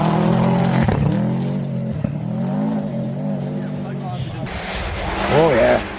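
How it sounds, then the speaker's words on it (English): An older Subaru rally car climbs through a hairpin on a snowy rally stage, its engine revving loud and near, dropping back and then rising hard again as it powers away, with people talking close by. "An older Subaru."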